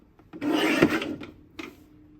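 Paper trimmer blade sliding across cardstock for a scrapbook page kit, one long rasping cut followed by a shorter scrape, close and clear with no talk.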